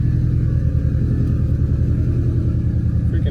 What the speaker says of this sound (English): Oh boy, that turbo